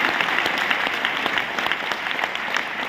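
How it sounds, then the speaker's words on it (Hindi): A training-session audience applauds the trainer in a steady, close patter of many hands clapping, loud and continuous with no speech over it. "बनती कि नहीं बनती सर के लिए ताली।"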